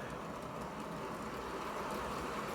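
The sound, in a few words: PIKO model train running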